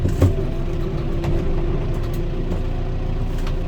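A Lane Shark brush-clearing attachment runs off a machine's engine as the RPMs come up, giving a loud, steady, close engine drone with a faint clunk at the start.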